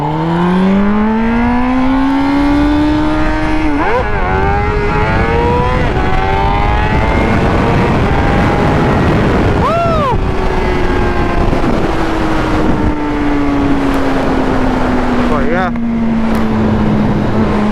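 A Honda engine with worn cam chain guides runs loud and close, its pitch climbing and sagging through several rev changes under constant wind buffeting.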